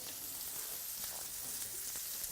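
Food searing in a hot pan gives a steady, close sizzling hiss with faint crackles and occasional small pops, with no talk over it.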